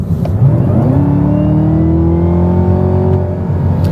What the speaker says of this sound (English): When you press the accelerator pedal, it is incredibly fast at going to the lowest possible gear and just moving.